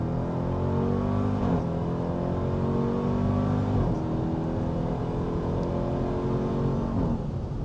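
A Dodge Durango R/T 392 V8 revs hard on a race track, its engine note climbing steadily and then dropping sharply with each quick automatic downshift, loud and continuous throughout with no talking.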